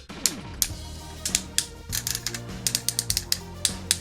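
Ratcheting joints of a hot pink metal Cardbot Buffalo Crush transforming toy being moved, a series of close, dry mechanical clicks and ratchet snaps in uneven bursts, with no talking.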